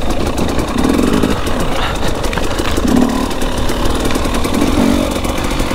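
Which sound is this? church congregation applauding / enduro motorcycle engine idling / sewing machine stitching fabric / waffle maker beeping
enduro motorcycle engine idling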